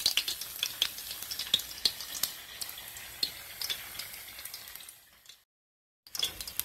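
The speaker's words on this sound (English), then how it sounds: "You can even fry two in the same time." Two sausage-filled brick egg rolls fry together in hot oil, giving a crackling sizzle with frequent sharp pops. The sound drops to near silence for a moment, then the frying resumes.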